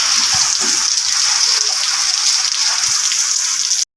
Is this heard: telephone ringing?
no